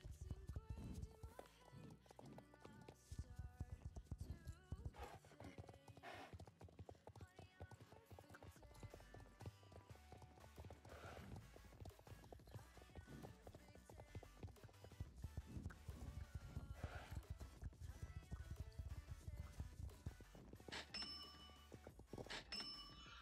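Rhythmic hoofbeats of a horse galloping in Star Stable Online, steady and fairly loud, mixed with game music and occasional talking over the top.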